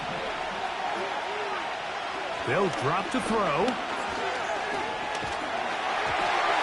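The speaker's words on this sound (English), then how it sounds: "The Buffalo crowd being heard before 3rd down." Buffalo stadium crowd in a Madden football video game, a steady broad roar that swells louder midway, with a commentator's voice talking over it.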